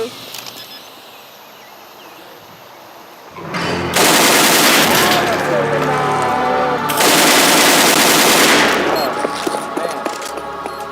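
Sustained bursts of AK rifle fire in an esports shooter match, loud and dense, coming in two long volleys after a quieter stretch with faint background voices.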